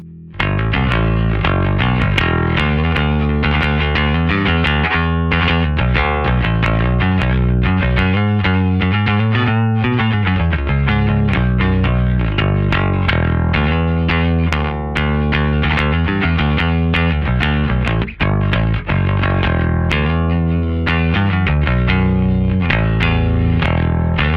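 Bass guitar played through a Quilter V803 bass amp with its EQ set brighter and more mid-heavy, a loud, continuous run of driven, slightly gritty notes with steady rhythm throughout.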